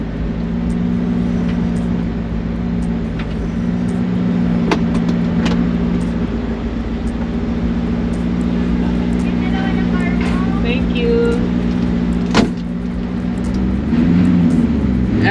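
A 2022 GT40 cruises along a highway with a steady, droning engine note and constant road roar, loud and close from inside the car, the tone holding even throughout with a brief knock near the end.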